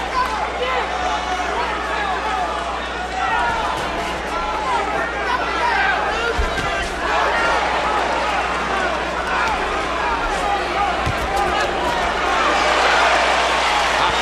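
Boxing arena crowd during a Bernard Hopkins vs Jermain Taylor fight, a dense steady roar of murmuring and cheering that swells toward the end, with a commentator talking over it.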